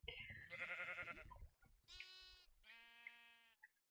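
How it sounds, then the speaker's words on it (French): Minecraft sheep bleating: a wavering bleat, a pause, then two longer bleats, close and clear with near silence around them. "Ah, le mouton effrayant!"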